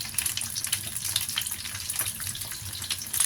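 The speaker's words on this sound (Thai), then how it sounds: "ทอดกุ้งซะก่อน สุกง่ายจ้ะ" Shrimp sizzling in a pan for dry-fried shrimp, a steady close crackle and hiss with scattered pops and no talk.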